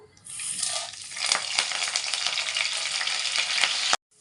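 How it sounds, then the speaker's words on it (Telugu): Tempering spices, a dried red chilli and curry leaves crackle and sizzle steadily in hot oil, a loud continuous spitting hiss close by that starts abruptly and cuts off at the end. "పోపు వేగిపోయింది"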